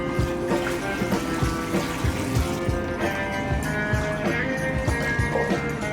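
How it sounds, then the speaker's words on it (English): Running water rinses chrome plating solution off a Triumph TR6 bumper, a steady hiss and splash close by with faint tonal hum from the workshop behind. "Just rinsing the chrome solution off here."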